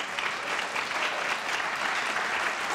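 Dense, steady applause from a live talk-show audience, many hands clapping together at an even level throughout with no voices on top.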